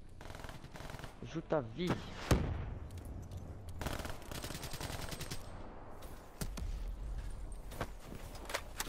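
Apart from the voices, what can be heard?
armored turret machine gun firing in a video game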